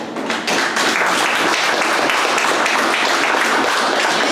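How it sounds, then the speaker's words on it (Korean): An audience at a lecture in Washington by a former CIA agent breaks into loud, close applause, a thick continuous roar of many hands clapping with faint rhythmic pulses, lasting several seconds. "박수 치라고!"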